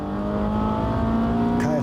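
A modified Honda Civic engine revs steadily, holding a loud, sustained drone with a rising note near the end, heard close up with faint talk underneath.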